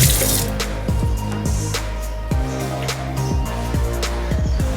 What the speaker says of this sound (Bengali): চলো হাতটা ধুয়ে নিই এবার।